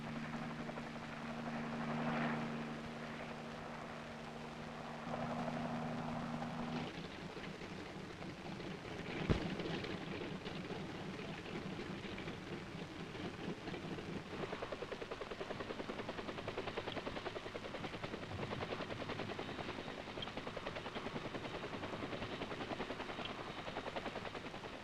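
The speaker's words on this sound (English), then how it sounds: "Then the troop carriers take off, well in advance of the H-21 group following." Military troop carrier helicopters take off in Vietnam in 1963, a steady, moderately distant rotor and engine drone with a sharp knock partway through, no voices over it.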